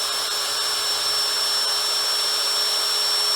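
A Hasston 16 V brushless cordless drill running at its lowest speed setting, a steady close whirring motor whine with a constant high hum and no variation or talking.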